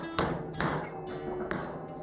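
Three sharp metallic strikes, close and loud, as a socket is hammered to push a bearing out of a Honda TRX70 ATV, spaced unevenly with a ringing tail after each blow.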